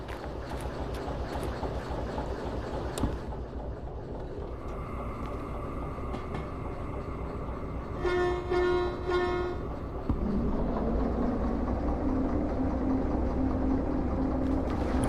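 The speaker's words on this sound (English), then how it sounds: "While the train tries to back up" A train in the railway simulation game Derail Valley reverses, with a low mechanical rumble, a few sharp clanks, a sustained horn-like tonal blast in the middle, then a steadier hum with a faint whine.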